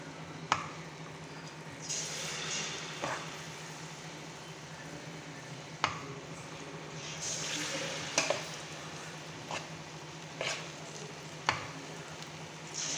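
Rolls of maida dough deep-frying in oil, a steady low sizzle running throughout with occasional sharp pops and clinks recurring every second or two, close and fairly quiet with no talk.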